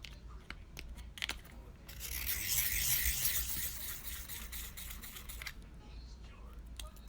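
A hard 4H pencil lead sketching on paper, close scratchy strokes that swell into a longer sustained shading rasp, then ease back to lighter scribbles, with soft talk around them.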